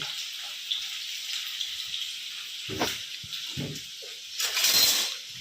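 Onion tossed into hot oil with cumin and mustard seeds in a home kitchen pan, giving a steady crackling sizzle with brief louder bursts as pieces hit the oil and are stirred, no talking.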